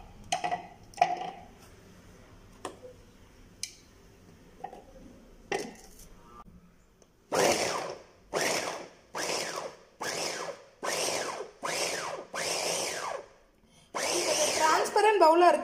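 An electric vegetable chopper cuts long carrot pieces in a bowl, first with a few light clicks and knocks, then with about eight loud, close motor bursts of whirring and chopping in short pulses, ending in one longer run.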